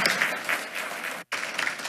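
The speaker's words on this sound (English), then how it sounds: "Let's give her one more round of applause." An audience at a school board meeting gives a round of applause, a dense burst of clapping that stops briefly before picking back up for a final stretch.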